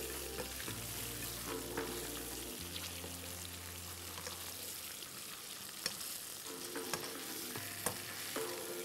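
Garlic, ginger and chicken fry in a pan with a steady sizzle and occasional stirring clatter, close by and continuous, over a low background hum that shifts partway through; no voices.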